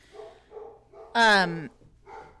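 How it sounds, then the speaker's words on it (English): Dogs bark at a neighbor in a home where an air fryer oven sits nearby; one loud, close, drawn-out bark stands out between quieter voices talking before and after. "They're barking at my neighbor."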